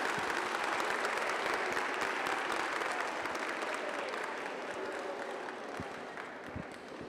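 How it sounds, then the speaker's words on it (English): A crowd at an athletic recruitment event bursts into dense, sustained applause, a continuous roar of many hands clapping that holds steady before easing slightly toward the end. "I think that deserves another round of applause"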